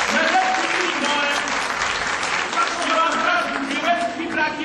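Dense, steady applause from a theatre audience at a stand-up and sketch show in a cultural centre, many hands clapping close and loud for the full length with murmuring voices under it.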